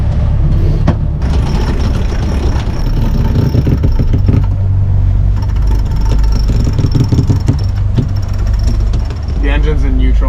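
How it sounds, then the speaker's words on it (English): A sailboat's engine idles in neutral while the boat moves fast under sail, giving a low steady rumble mixed with wind and water rush, loud and continuous, with a brief dip near the end. "The engine's in neutral right now."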